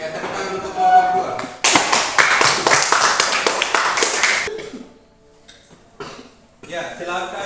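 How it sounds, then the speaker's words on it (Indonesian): Students in a classroom clap for a presenting group, a few seconds of steady close clapping that stops abruptly, followed by quieter room sounds and speech. "Ya, tepuk tangan untuk kelompok 2."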